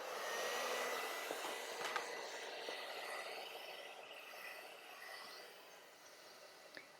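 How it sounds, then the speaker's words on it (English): A steady, whooshing blow of air from a hair dryer, used on a pastel and oil painting, runs throughout, fairly loud and constant, easing off slightly toward the end. "now I'm going to take that hairdryer again"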